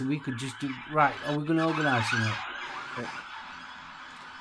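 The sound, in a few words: ambulance sirens passing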